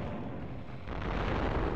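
An enemy explodes as it dies in The Legend of Spyro: A New Beginning. It is a short, dense, rumbling burst that swells slightly louder midway and sounds close.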